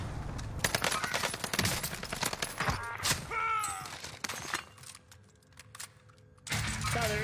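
Rapid bursts of video game gunfire from an airstrike crackle and rattle in dense volleys, loud and close, with a short lull of lighter mechanical sounds before the barrage picks back up.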